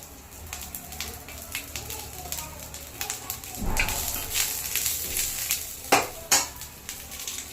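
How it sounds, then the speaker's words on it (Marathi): Garlic hits hot oil in a pan while dal karela is cooked, giving a steady crackling sizzle with clinks and scrapes from a spoon stirring against the metal pan. "थोडंसं तेल टाकायचं त्यामध्ये लसूण सोडायचं"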